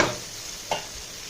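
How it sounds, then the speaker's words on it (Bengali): Peanuts and potatoes frying in a pan give a soft steady sizzle, broken by one brief scrape as they are stirred. "আর বাদাম আর আলু এগুলো সব ভাতকে বসিয়ে দিয়েছি এগুলো একটু ভেজে যা"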